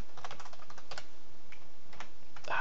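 Someone types on a computer keyboard while programming, with bursts of quick, crisp key clicks close up, short pauses between runs, in an otherwise quiet room.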